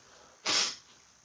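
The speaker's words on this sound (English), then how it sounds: "I'm blowing my nose." A single short, forceful blast of air through the nose, close up, with near silence before and after.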